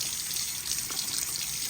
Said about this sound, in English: Quite a bit of water is leaking out around this.